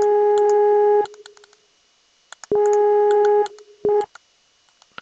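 A telephone busy signal answers an outgoing call, sounding as loud, steady tone bursts about a second long with silent gaps between them, followed by a shorter beep, close and clear with no voices.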